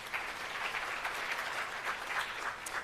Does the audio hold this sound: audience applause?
yes